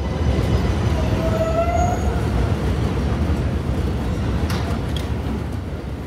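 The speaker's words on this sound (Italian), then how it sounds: "ho preso la metropolitana, la mitica subway newyorkese che cade a pezzi" A New York City subway train, old and falling apart, rumbles loudly and continuously with a dense rolling roar, a brief high metallic squeal rising over the steady din.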